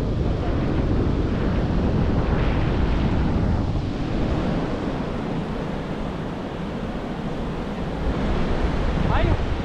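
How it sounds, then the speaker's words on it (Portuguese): Rough, agitated ocean surf at a beach on Ilha Comprida, a loud continuous roar of breaking waves with wind buffeting the microphone throughout. "O mar tá um pouco agitadão, né?"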